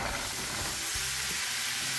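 Shrimp frying in melted butter in a hot pan, a broad steady sizzle and hiss close up, with faint stirring scrapes underneath.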